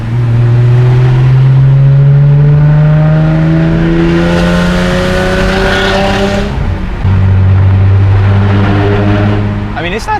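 A Genesis Coupe 3.8 R-Spec with a straight-pipe exhaust drones loudly from inside the cabin, engine pitch climbing steadily under throttle, dropping at a shift, then pulling again, with a voice speaking over it.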